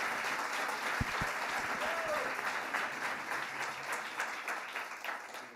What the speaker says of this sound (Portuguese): Uma salva de palmas aqui para os nossos amigos.